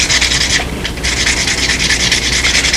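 A wooden propeller is sanded by hand, a loud, close, continuous scratchy rubbing in fast rhythmic strokes with one brief pause near the start.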